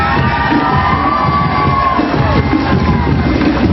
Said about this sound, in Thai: ขอเสียงปรบมืออีกครั้งครับ